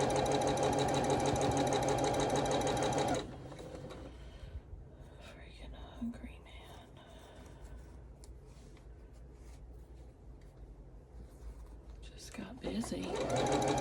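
A sewing machine stitches a quilted Calico Snails table runner in a steady, loud run for about three seconds, stops, then starts again near the end; a person speaks quietly in between.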